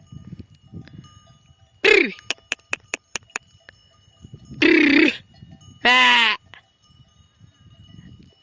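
Three loud bleats from a yearling sheep ring out close by in a Turkish village, with a quick series of sharp clinking taps before them and quiet background murmur between calls.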